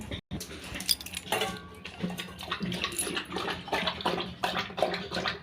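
Water splashes and sloshes into a dog's bowl, with clinks of metal and dish knocks mixed through the busy, close pouring sound; no talking.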